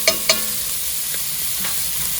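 Onion, green peppers and a jalapeno substitute sauté in a pan, a steady bright sizzle with two sharp utensil clinks at the start and a few soft stirring scrapes, close and without speech.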